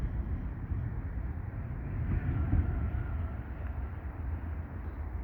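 A Via Rail LRC passenger train crosses the Lachine Canal bridge in Montreal, heard as a steady, low rumble at a moderate distance that holds throughout without any talking.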